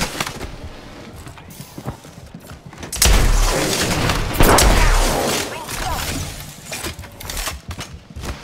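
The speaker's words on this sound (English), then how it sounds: "Incoming grenade!" In a chaotic Apex Legends firefight, a grenade bursts with a heavy, close boom, followed by scattered gunfire, thuds and debris that keep rumbling for several seconds.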